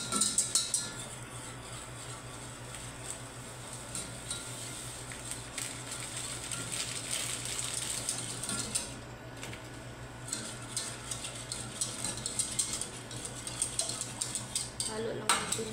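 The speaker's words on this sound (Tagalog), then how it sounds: "Halo lang natin hanggang sa mag-stick yung mga kaati" A utensil stirs a sticky jelly custard mixture in a bowl, soft scraping and clinking strokes repeating close by with occasional brighter knocks against the bowl, no voices.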